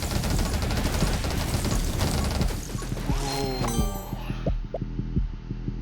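Rapid SMG fire in 20 Minutes Till Dawn with spinning lightning effects, a dense continuous rattle of shots and impacts that thins into scattered pops.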